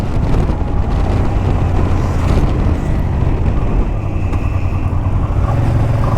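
Honda Transalp motorcycle leaving the motorway, its engine droning steadily under heavy wind rush, loud and close throughout with slight shifts in pitch as it rolls on.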